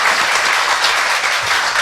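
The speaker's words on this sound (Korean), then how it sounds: "굉장히 놀라고 다시 한번 박수를 줘야 된다고 생각합니다." Steady applause from a crowd, a dense wash of clapping that holds evenly throughout.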